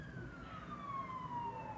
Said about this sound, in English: the sirens in the back for confirmation.